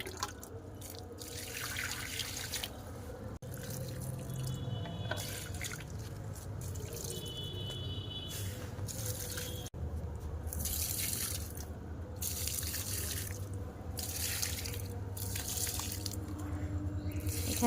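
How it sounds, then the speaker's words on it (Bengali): Water runs from a rooftop tap into a container, a steady splashing stream with shifting pitch as the vessel fills, heard close and continuous with no talk. "এই যে এখানে ছাদে কল রয়েছে, সেখান থেকে জল নিয়ে নিচ্ছি গাছে দেওয়ার জন্য।"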